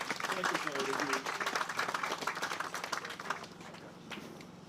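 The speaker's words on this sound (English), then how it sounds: "Give the Senator another round of applause, please." Applause from an outdoor audience at a development groundbreaking ceremony, a steady wash of many hands clapping at moderate volume for several seconds before thinning out.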